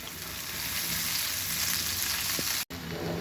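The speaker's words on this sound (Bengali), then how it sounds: "এখন আমি পেঁয়াজটাকে একটু ভেজে নেব" Continuous loud sizzling and crackling from onions frying in cooking oil in a pan, with a brief cut-out near the end before the frying resumes.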